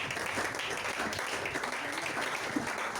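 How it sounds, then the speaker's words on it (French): A church congregation applauding steadily and loudly for about three seconds, a dense wash of clapping with no break and a faint voice beneath it. "Acclamons encore le Tout-Puissant"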